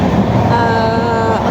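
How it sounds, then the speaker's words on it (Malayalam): A passenger train pulls away from a station, heard from inside the carriage as a loud, close rumble with a rising motor whine through the brief stretch. "ട്രെയിൻ മൂവായി. Correct 4:50 train മൂവായി"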